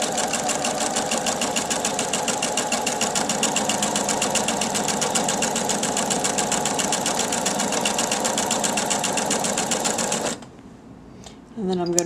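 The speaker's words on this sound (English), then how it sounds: "Go forward again. Just sew all the way down." A sewing machine stitches fabric for a homemade face mask, a loud steady whirring drone running continuously before stopping abruptly, then a few faint clicks.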